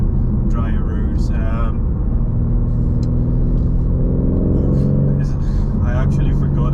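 A 2022 BMW G80 M3 Competition driving on wet roads, its engine a steady low rumble and drone throughout with road and tyre noise, while someone talks over it. The car is freshly run in and in MDM mode.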